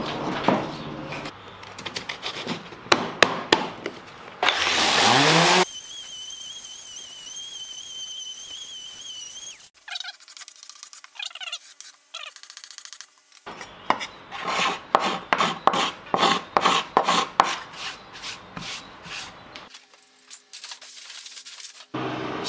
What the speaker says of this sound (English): might just have to run some 120 grit over it for just a little bit and see how that